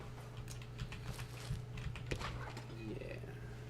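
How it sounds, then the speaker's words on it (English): Someone in a gaming setup presses a loud, stiff shift key on a computer keyboard, giving a few sharp clacks among quieter typing, faint and close under a low background hum. "I think that even the chat can hear me pressing shift"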